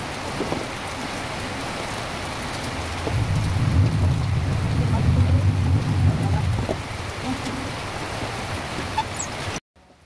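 Rain falls steadily and heavily nearby, a dense hiss that swells louder for a few seconds in the middle with a low rumble, then eases before cutting off.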